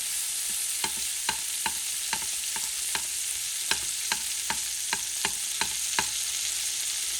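Cauliflower sizzles in oil in a paella pan for a pork shoulder paella, while a utensil scrapes and taps the pan in a steady rhythm of about a dozen sharp clicks over continuous frying hiss.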